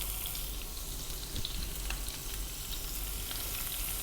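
Whole spices frying in hot oil with a little onion for an Indian-style fish fry: a steady, dense sizzle and crackle that holds evenly throughout, close and fairly loud, with faint stirring ticks and no voices.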